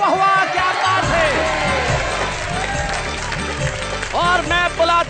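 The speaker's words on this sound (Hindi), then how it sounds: "तो आइए हम उस कार्यक्रम में बजाते हैं तालियां" A studio audience at a Hindi comedy poetry show breaks into lively applause and cheering, with whoops and shouts over a steady clapping roar and some voices mixed in.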